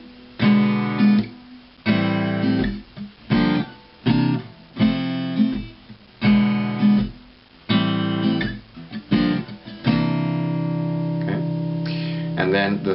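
Guitar chords strummed through a progression that includes a C ninth, each chord ringing out in rhythmic bursts that decay before the next strum, played alone and fairly close.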